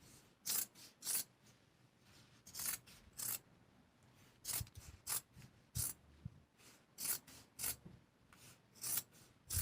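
Scissors snip through strips of denim fabric being cut for handmade hoop earrings, a steady series of short, crisp cutting strokes grouped in twos and threes, quiet and close with no talking.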